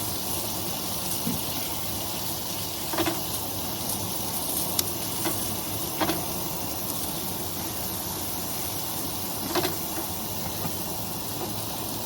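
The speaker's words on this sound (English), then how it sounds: "Is there anything better than onions and mushrooms sauteed off in bacon grease?" Onions and mushrooms sauté in bacon grease at a camp cookout, a steady loud hiss of frying with a few faint clicks and scrapes of a spatula spread through it.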